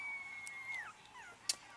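Three-week-old Maltese puppies whimpering, with a drawn-out thin whine that bends downward and a short sharp yip near the end, faint and close, with no talking.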